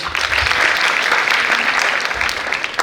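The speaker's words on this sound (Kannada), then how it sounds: "ಚಪ್ಪಾಳೆ ಕೊಡಬೇಕು" Audience applause fills a hall during a National Voters Day program at Rang Mandir in Bidar, a steady, dense clapping that holds evenly loud throughout with no voices on top.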